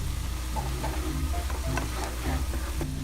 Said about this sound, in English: now we're gonna add our pepper and our carrot.